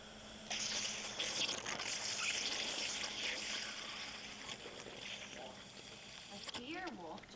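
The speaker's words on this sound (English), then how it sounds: "I hear water." Water trickles and leaks out the side of a fitting during a DIY kitchen build in an abandoned house renovation, a steady close hiss with splashy spatter, while people talk over it.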